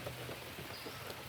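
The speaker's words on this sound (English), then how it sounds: "I'm gonna lay here and watch the rain" Rain falls on a campsite during car camping at Mammoth Cave National Park, a soft, even, continuous hiss of drops with no voices.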